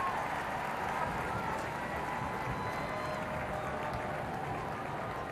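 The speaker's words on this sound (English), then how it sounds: "The armed forces giving a round of applause." Massed armed forces personnel give a round of applause outside Buckingham Palace during a Red Arrows flyover, a steady, dense wash of clapping held at an even level throughout, with some crowd murmur mixed in.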